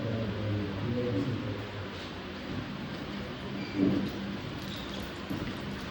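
Steady rain falls outside with low thunder rumbling through, one swelling roll near the middle, heard from indoors during a church service, with no speech over it.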